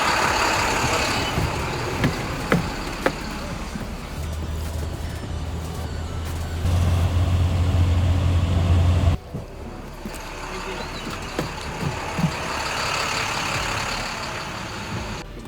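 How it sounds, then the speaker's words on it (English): A bus rumbles in and idles nearby, its low engine drone swelling louder before cutting off abruptly, while a background voice murmurs and traffic hiss continues. "The bus is almost here."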